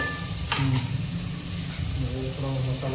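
Tomatoes and masala sizzle and fry in a pan, with spoon stirring and scraping sounds, close and continuous.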